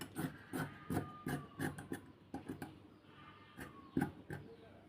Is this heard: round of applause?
no